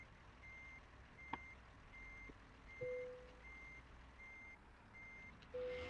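A truck in American Truck Simulator backs up with a steady, evenly spaced series of faint reversing beeps over low engine rumble, with a couple of short hisses and clicks and no talking.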